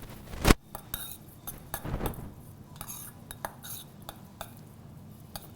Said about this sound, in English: I'm gonna slowly mix it all up